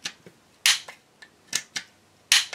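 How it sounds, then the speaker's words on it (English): Metal-bodied magazines dropping freely from the polymer grip of a BUL Armory EDC pistol, heard as several sharp metallic clacks and clicks spaced irregularly, close and crisp against a quiet background. "since they are metal bodied mags in a polymer grip, they drop quite freely"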